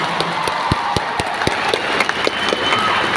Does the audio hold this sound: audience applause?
yes